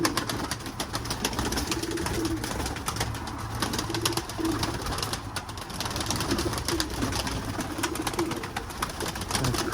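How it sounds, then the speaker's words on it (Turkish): Pigeons cooing as they land, a low repeated murmur of coos under a steady hiss of outdoor noise, with faint rustles and wing movements throughout. "Kuşlar indi."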